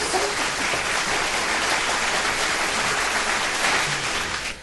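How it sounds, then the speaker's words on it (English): Women in the audience at a live 1970s-themed club show cheer and clap loudly in a thick, continuous wash of applause that tapers off just at the end. "Now the women should cheer loud"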